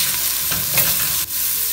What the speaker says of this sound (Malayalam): എന്നിട്ട് നന്നായി വഴറ്റി കൊടുക്കുക.